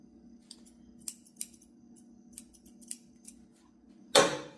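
Hair-cutting scissors snip a few times at irregular intervals, with crisp, close metallic clicks over a low steady hum, ending in a louder rustling burst.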